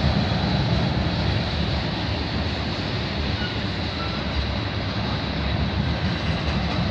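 A CN/CP freight train with distributed power units rolls past close by in Milton, Ontario, a steady, loud roar of rumbling wheels and rail noise that fills the whole stretch without pause.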